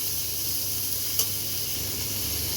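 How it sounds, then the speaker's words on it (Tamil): Green chillies and curry leaves fry in hot oil in a pan while mango sambar is being cooked, a soft, continuous sizzle and hiss with one brief tick partway through. "இதில் ஒரு ரெண்டு பச்சை மிளகா கொஞ்சம் கருவேப்பிலை சேர்த்துக்கலாம் ஸோ இது எல்லாத்தையும் சேர்த்து ஒரு நிமிஷம் நல்லா ஃப்ரை பண்ணிக்கலாம்"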